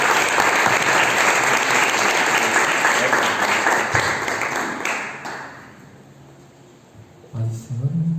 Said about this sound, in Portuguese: Será que você pode aplaudir a Jesus?